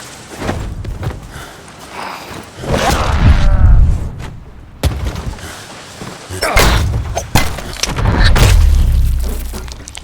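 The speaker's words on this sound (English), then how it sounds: "Grenades?" Grenade blasts in the zombie video game Dead Island 2, heard as heavy booming thuds with some crashing debris, loud and close, separated by quieter stretches of game ambience.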